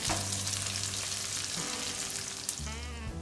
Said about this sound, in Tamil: வெங்காயம் கொஞ்சம் வதங்கட்டும்.